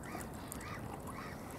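Ducks call repeatedly outdoors at Peterhof, a few nasal quacks and honks rising over a steady background of park ambience, moderately distant and fairly faint.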